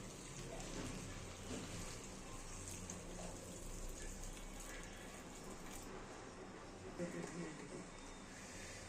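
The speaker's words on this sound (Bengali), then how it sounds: "এখন মা শুটকি মাছে গরম জল দিয়ে দিচ্ছে" Hot water poured over dried fish (shutki) in a bowl, a steady close splashing rush that runs unbroken throughout, a voice faintly audible beneath it.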